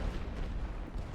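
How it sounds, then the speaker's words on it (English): Artillery suppression barrage in a World War I strategy game, heard as a dense, continuous low rumble of booms and blasts, loud and unbroken for about a second with no talk. "Suppression barrage."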